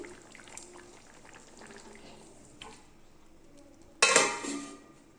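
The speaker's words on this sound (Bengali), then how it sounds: "এটাকে এবার বাটিতে ঢেলে রাখি" Cooked pumpkin and potato-pointed gourd curry with ghee and garam masala tipped from a pot into a bowl, mostly quiet scraping then a sudden loud clatter and wet slide near the end.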